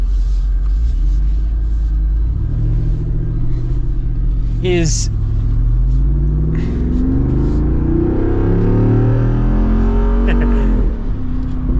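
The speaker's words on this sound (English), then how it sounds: "gotta love the V8 sound" V8 engine of a 2025 Jeep Wrangler 392 rumbling loudly as it drives, pitch sweeping up while revving under acceleration, with someone talking over it throughout.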